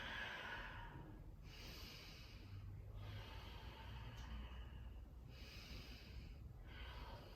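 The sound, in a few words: person breathing in and out during yoga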